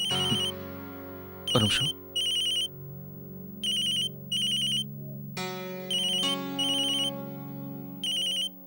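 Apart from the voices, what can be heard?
phone ringtone ringing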